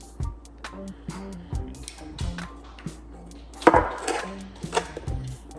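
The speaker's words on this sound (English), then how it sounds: "we use our knife and we cut an angle like this" Knife cutting an angle into clay on a board: several sharp, separate taps and scrapes at irregular spacing, close and moderate, over faint steady background music.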